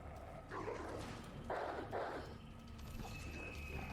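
Dogs in the Resident Evil 2 Remake video game give a few muffled barks and growls in short bursts, faint and somewhat distant over a low game ambience.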